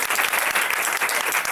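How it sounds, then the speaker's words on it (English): A full-house cinema audience claps after a screening of the horror film Jennifer's Body, a dense, even wash of applause that stays loud and steady throughout with no voices over it. "Big round of applause for Jennifer's Body."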